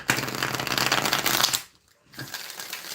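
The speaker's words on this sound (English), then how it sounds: "One more shuffle." A deck of playing cards is shuffled up close in a dense, crackling riffle lasting about a second and a half, followed by a short pause and softer handling of the cards.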